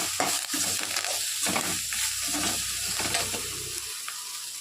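Okra (ladies finger) sautéing and being stirred in a pan for a curd gravy, a steady close sizzle with scraping stir strokes throughout, no voices.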